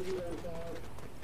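A bird in a shooter video game gives a short, faint cooing call, like a pigeon or dove, heard briefly beneath players' voices.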